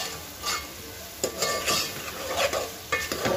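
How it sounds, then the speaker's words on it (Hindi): Vegetables for sambar are sautéed in a pan with a faint sizzle, broken by irregular scraping strokes of a spoon stirring them. The sound is close and fairly quiet, with no talking. "अभी इसमें मैं भाजी भूनूंगी, इसमें थोड़ा गलाऊंगी"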